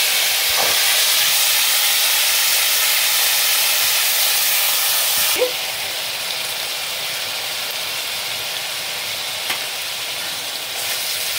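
Onion paste sizzles in a hot pan of oil with turmeric for mustard prawns, a loud, steady hiss that eases slightly partway through and then continues evenly.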